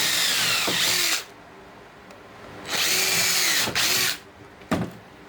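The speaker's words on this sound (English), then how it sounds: "Put your two pilot holes in there." A power drill bores pilot holes into wood for a makeshift mortar rack, in two loud, close whirring bursts with a quiet gap between them, then a short final burst.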